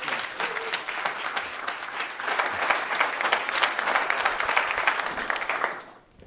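Audience applause at the live final of the 2023 Best Sommelier of Canada competition, a steady dense clapping from a crowd that holds for several seconds before cutting off abruptly at the end.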